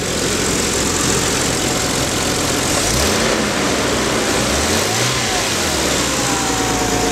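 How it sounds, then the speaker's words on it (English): Nissan Fairlady Z32 engine running cold with a leaking vacuum hose, a steady loud engine drone with throttle blips and a broad hissing, sucking wash over it, no voices. "I'm getting a sucking sound every time I throttle up when the engine is cold"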